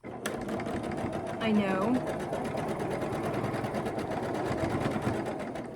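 Sewing machine stitching a quilt block, a fast steady motor whir and needle rattle running throughout, close and prominent, with someone speaking over it.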